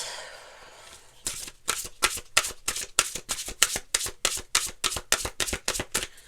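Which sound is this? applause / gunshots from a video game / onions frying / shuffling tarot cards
shuffling tarot cards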